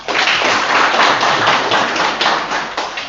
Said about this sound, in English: Please give him also a big round of applause.